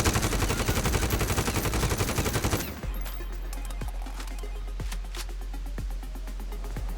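Rapid automatic fire from a QBZ assault rifle in Warzone, a dense loud burst of shots for almost three seconds, then scattered single reports and a low steady rumble.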